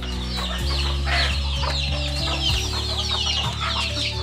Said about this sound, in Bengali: দেখতেছেন মুরগিগুলো কত সুন্দর খেলা করতেছে